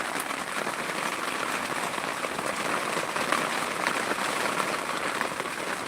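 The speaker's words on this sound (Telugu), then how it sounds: "ఇక్కడైతే భారీగా వర్షం అయితే వస్తుంది" Heavy rain in a village in Anantapur district pours down in a dense, steady hiss, drops drumming hard on surfaces with no break and no voices.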